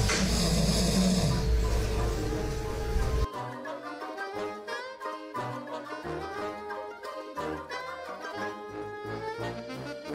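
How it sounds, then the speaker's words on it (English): A dog snores loudly and steadily for about three seconds, then music takes over for the rest of the clip. "He snores as if he's been working a 9-to-5 job."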